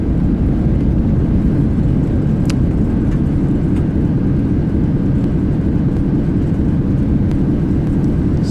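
Steady broadband roar of an iniBuilds A330's thrust reversers after touchdown in Microsoft Flight Simulator 2024, heavy low rumble holding loud and continuous throughout with no talk.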